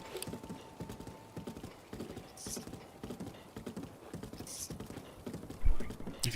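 Horse hooves clip-clopping steadily across a bridge in Zelda Breath of the Wild during rain, a close, regular trot with occasional snorts and soft ambient patter.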